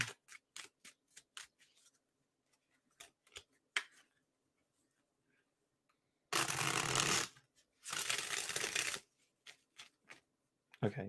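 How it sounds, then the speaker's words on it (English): Tarot cards being shuffled by hand, with a run of quick close riffling clicks followed by two louder sustained bursts of riffle-and-bridge shuffling, alone with no talk. "Okay, enough shuffling."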